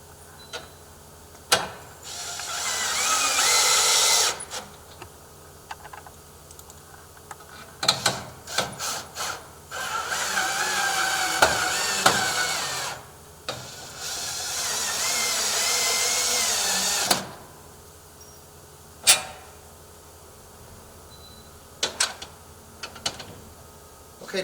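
Power drill driving frame screws into a replacement door frame, several sustained whirring bursts a few seconds each with ratcheting clutch clicks, separated by short knocks and pauses, fairly close.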